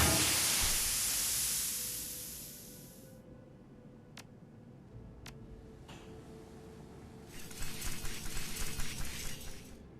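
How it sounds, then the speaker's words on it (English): Steady, loud hiss of propane escaping from a ripped gas line in the Shadowrun: Hong Kong video game, rushing for about three seconds before dropping to a quieter background with a few sharp clicks and a later burst of crackling noise. "With a sudden hiss, propane begins filling the room."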